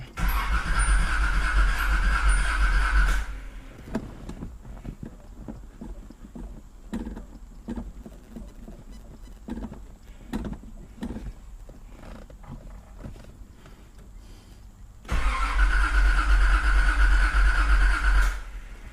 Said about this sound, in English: Getting the crank, but it's not turning over.